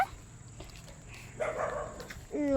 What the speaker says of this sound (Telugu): నా కుక్క ఏమో అరుతుందో పక్క